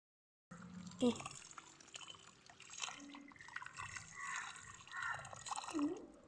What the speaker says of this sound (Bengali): কলে আমি এটা ধুয়ে নেবো, ভালোভাবে এটা ধুয়ে নেবো।